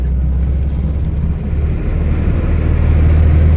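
A 1983 Toyota Corona with a five-speed manual gearbox drives along, giving a steady, loud low engine and road rumble that continues throughout with no talking.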